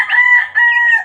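A Sweater Kelso gamecock rooster crows close and loud, a single strained call broken by a brief dip midway.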